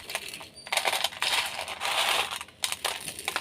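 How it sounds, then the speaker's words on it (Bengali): Crispy fried gram flour noodles (jhuri bhaja), made for homemade chanachur, are crushed by hand up close, giving a run of sharp, crackly crunching bursts with short pauses between. "এইভাবে আমি ভেঙে গুঁড়ো করে নেব।"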